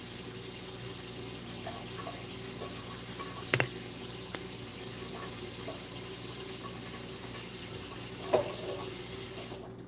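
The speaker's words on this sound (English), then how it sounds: "Then we will put hot water here." Hot water runs steadily from a tap or kettle into a pan for baking a cheesecake in an old oven, a soft continuous pour under faint background hum with two brief clinks.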